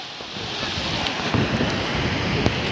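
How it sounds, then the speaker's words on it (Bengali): Sea waves at Bakkhali beach wash in as a constant broad rush, blended with blustery wind buffeting the microphone at moderate loudness throughout. "দেখো পুরো সমুদ্রের মতনই লাগছে, ঘন ঘন স্রোত আসছে।"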